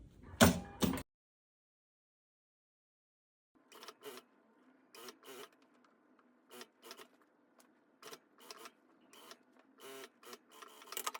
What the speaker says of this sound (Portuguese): Vou fazer a costura de reta, prendendo, né?